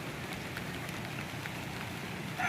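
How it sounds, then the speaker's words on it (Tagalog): Steady rain falls, a dense, even hiss of drops striking surfaces nearby, continuous throughout with no voices. "Talagang ulan na ito."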